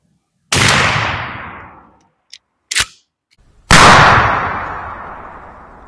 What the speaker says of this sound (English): Here's our first Remington Express single aught from 30 yards.